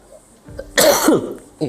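A single loud, harsh cough bursts out close by, followed by a shorter rasping tail and a brief throat sound at the end.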